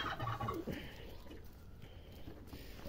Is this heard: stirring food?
no